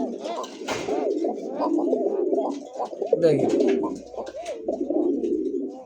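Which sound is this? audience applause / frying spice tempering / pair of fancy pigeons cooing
pair of fancy pigeons cooing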